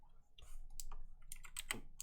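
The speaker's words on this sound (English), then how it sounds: "hopefully you don't hear too much typing. You might though because my sound is still not perfect" Keys clatter on a computer keyboard in a home PC setup, with quick irregular taps and clicks, close and fairly quiet, without talk.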